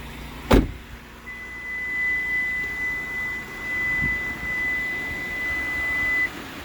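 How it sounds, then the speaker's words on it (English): A door-like thud, then a 2022 Kia Telluride SX's key-out warning emits a steady high-pitched electronic tone continuously for about five seconds over quiet car cabin noise before cutting off. "That beeping is to let you know that the key has exited the interior"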